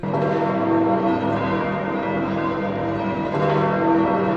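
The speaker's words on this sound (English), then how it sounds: "The bells of St. Peter ring, marking the end of this historic Mass" The bells of St. Peter's ring continuously at the end of a papal Mass, their overlapping tones forming a dense, sustained wash of sound with no voices.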